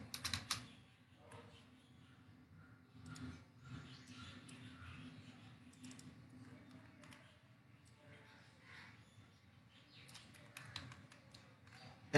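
Computer keyboard typing, a scatter of light taps and a keypress at the start and end, heard close and faint over a steady low background hum.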